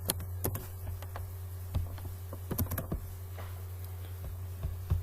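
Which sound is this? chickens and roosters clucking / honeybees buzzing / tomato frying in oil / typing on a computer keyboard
typing on a computer keyboard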